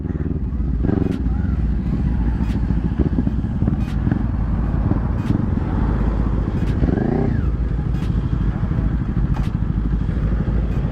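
A Kawasaki Ninja 400 HG twin-cylinder motorcycle is ridden hard. Its engine drones loudly and steadily up close under heavy wind roar, with one brief rising rev, while a rider's voice comes through at times.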